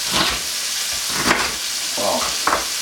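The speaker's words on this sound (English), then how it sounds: "I am just going to throw the okra right in there." Okra sizzles in a hot pan with bacon, a bright crackling hiss that swells in bursts as the pieces are stirred. The frying is close and continuous, with no voices.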